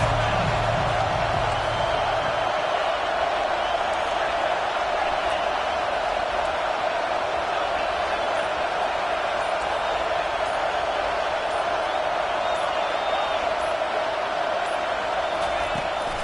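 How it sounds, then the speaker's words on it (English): Football stadium crowd in a college football video game, Utah versus Iowa, a constant loud roar of many voices held steady for a long stretch. "This crowd trying to make life miserable for this offense."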